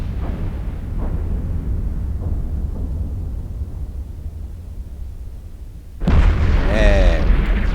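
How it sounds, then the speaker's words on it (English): Spaceship explosion in the video game EVE Online, a sudden loud burst that breaks in after several seconds of low rumbling weapon fire, with a bright crackling, warbling tail. "And then sit back and watch the explosion."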